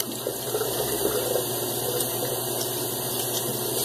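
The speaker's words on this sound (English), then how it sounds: "Let me wet my head." Running water wetting a head before a shave, a steady, close hiss of flowing water that stays constant throughout with no talking.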